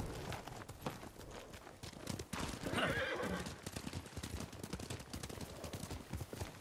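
Horses from Ghost of Tsushima whinny loudly around the midpoint over a steady patter of hoofbeats, with brief clattering gunfire-like bursts in a busy game soundscape.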